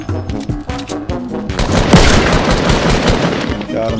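Rapid automatic gunfire in the video game Fortnite, loud and continuous bursts filling most of the few seconds, with a player's voice briefly under it.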